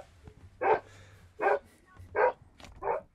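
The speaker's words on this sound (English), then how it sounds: "my dog's barking" A dog barks four times in a steady, evenly spaced series, fairly close and clear over a quiet low background hum, with no talking.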